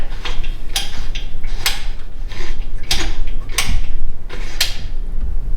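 A brake bias adjuster on a K24 prototype racer being turned to move a bolt, a close, rhythmic series of mechanical ratcheting clicks roughly once a second over a low background hum.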